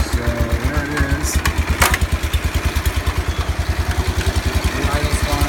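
A John Deere 140 H3 lawn tractor engine idles close by with a steady, rapid, even chugging pulse, loud and continuous, with a brief voice early on.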